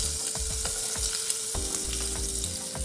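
Leeks, spring onions and other filling ingredients for a leek börek hit a pan of roasted pine nuts, giving a steady close sizzle with repeated stirring scrapes throughout.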